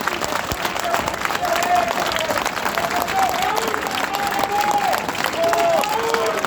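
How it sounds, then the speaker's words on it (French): Outdoor crowd at a rally in Place de la République, Metz, applauding doctors with continuous clapping and some cheering, while a voice can be heard calling over the noise. "Vous pouvez les applaudir"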